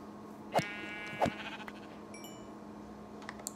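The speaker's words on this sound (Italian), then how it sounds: "Ok, pecora." A sheep in the video game Minecraft bleats twice in quick succession, close and clear, followed by faint game sounds.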